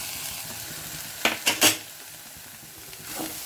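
Carrot, cabbage, curry leaves and coriander sauté in a pan. A soft background sizzle sits under three quick metallic spatula clinks near the middle, then more faint scraping.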